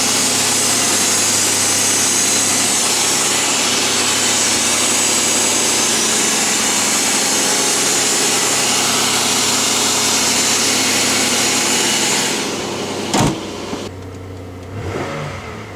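A 3800 Series V6 3.8 liter car engine on a cold start: a loud, steady high idle roar that holds for about twelve seconds, then drops with a few clunks and a quieter settle.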